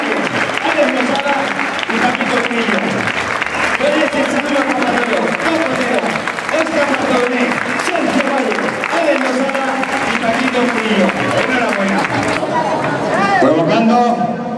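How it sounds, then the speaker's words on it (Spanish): A crowd applauds at a bullfighting event with a bull-leaping and dodging display, sustained loud clapping and cheering over the arena bustle, mixed with an announcer's voice and crowd chatter throughout. "Ese fuerte aplauso, fuera."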